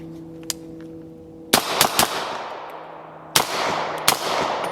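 Suppressed rifle shots through a CGS Mod 9 SK suppressor firing 300 Blackout subsonic ammunition: two pairs of sharp cracks with ringing decays, spaced a couple of seconds apart, outdoors with no talking.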